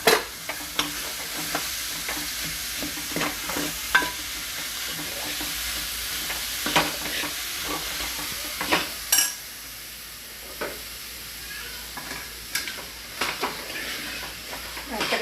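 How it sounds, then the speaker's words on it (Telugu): A spoon mashes and stirs chana dal with jaggery in a pan, giving repeated scraping knocks over a soft sizzle at a steady, unhurried pace. "పచ్చెనగపప్పు వేసుకున్నాం, బెల్లం వేసుకున్నాం, 2 కలిపేసి బాగా మెత్తగా మెదుపుకుందాం."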